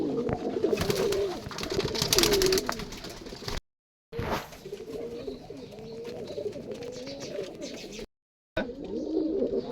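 Giribaz and Teddy pigeons coo steadily and close by, a continuous layered murmur of low throaty calls with a few brief breaks where the sound cuts out.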